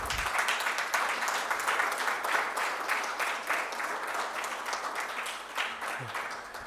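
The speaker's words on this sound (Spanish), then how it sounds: "Quiero un aplauso." An audience at a book launch applauds with sustained, dense clapping that holds steady for several seconds and then slowly begins to taper off.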